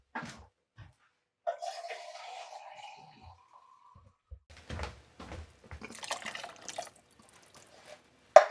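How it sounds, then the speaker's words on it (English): Water splashing from a can into a cooking pot during recipe preparation, with short quiet pours, drips and clinks separated by silence, close and faint. "So I am going to add another probably half a cup of water to half a can of water"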